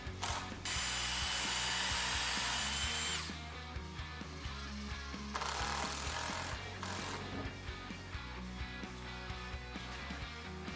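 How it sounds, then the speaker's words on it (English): A power drill drives screws into a wooden CNC table frame, with a loud whirring burst of a few seconds, then a quieter stretch of clicks and handling before a second shorter drilling run and more rattling. "Then I was able to remove that clamp and drive in the other screw."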